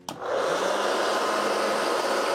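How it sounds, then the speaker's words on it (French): A hair dryer runs on an Aferiy 1200 W, 1248 Wh portable power station battery. A click switches it on, then a loud, steady, close-up blowing whir continues without a break. "On va mettre un sèche-cheveux dessus."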